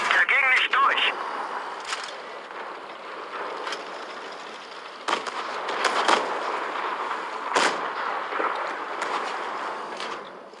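Tank cannon shots boom in World of Tanks Blitz, a few sharp blasts over steady engine and battle rumble, with someone talking throughout.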